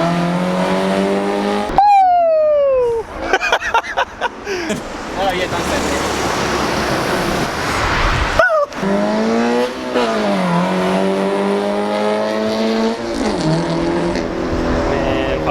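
A Toyota GT86 fitted with unequal length headers revs hard and sweeps past, its engine rising and falling in pitch with tire noise, then revs again; people briefly talk between passes.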